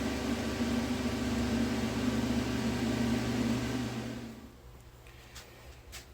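A welder tacks a handle end onto a steel clutch tool for a GSXR 1000 motorcycle, giving a steady, dense buzzing hiss for about four seconds before it cuts off into quiet room tone.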